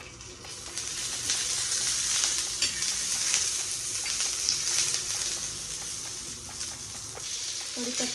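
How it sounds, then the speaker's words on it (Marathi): Curry leaves fry in hot oil for a curry leaf chutney, giving a steady, close, bright sizzle with faint crackles throughout, no voices over it. "त्याच्यानंतर आपण कढीपत्ता टाकूया आणि थोडं तेल टाकूया।"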